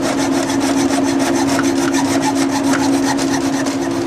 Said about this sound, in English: once we got our axle rod cut down